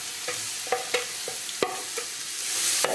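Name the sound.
onions frying in olive oil in a pan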